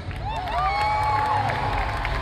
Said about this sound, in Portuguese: Vamos aplaudir o pessoal aqui